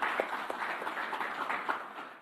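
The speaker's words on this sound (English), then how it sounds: "Can we give him a round of applause?" Applause from an audience at an authors' forum, a thinner, uneven spatter of clapping from a modest crowd with a few distinct claps, fairly quiet and fading toward the end.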